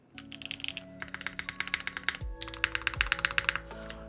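Typing on a Keycult 2/65 mechanical keyboard with Lavender switches and a brass bottom: quick bursts of crisp, clacky keystrokes in uneven runs, close and clear against a faint steady tone, with brief pauses between flurries.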